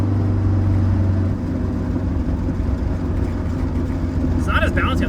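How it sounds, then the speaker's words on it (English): A K20-swapped turbocharged Honda Civic making around 450 whp pulls hard in fourth gear, its engine a loud, steady low drone close by, with a brief higher tire or whine noise near the end. "Try one more little fourth gear rip."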